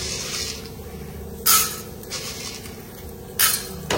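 Popcorn kernels go into hot oil in a pressure cooker, producing two sharp sizzling hisses over a low kitchen background, with faint clinks of metal in between.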